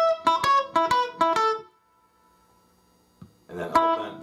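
Electric-style guitar notes alternate between the open first string and fretted notes higher up the neck, three quick plucked pairs ringing clearly, then a pause and a final burst of notes.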